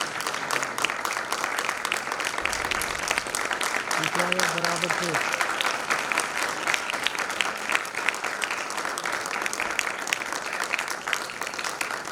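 A business meeting audience claps continuously in a dense, even wash of applause, with a brief low murmur of voices partway through.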